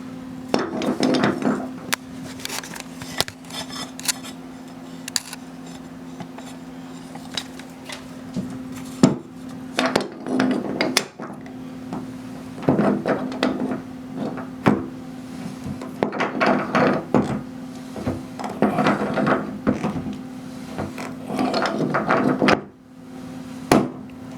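A wrench tightens a bathtub drain fitting set in plumber's putty, producing a run of irregular, close metallic knocks, clanks and scrapes in scattered bursts over a steady low hum, with no talking.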